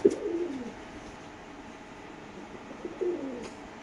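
A pigeon gives two soft, low coos, one at the start and another near the end, with quiet background between them.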